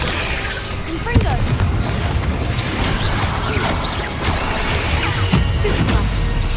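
Blasts and crashing impacts from the Confringo fire spell in Hogwarts Legacy, a couple of sharp booms within ongoing spell-combat noise, with a voice calling out over the action.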